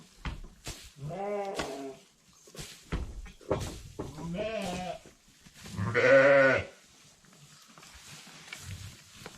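Sheep bleat inside a barn, several loud, wavering calls spaced a few seconds apart, close by, with quieter rustling between them.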